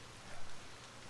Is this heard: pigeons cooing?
no